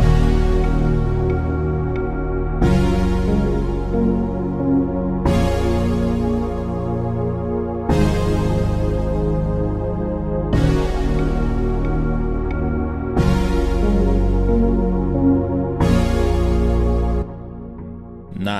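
A full synth arrangement in Logic Pro X for a zouk and kizomba style track, with analog lead, Eastern hammers, bright synth, analog waves and electric piano, repeating in steady chord blocks every few seconds, dense and sustained with no talking.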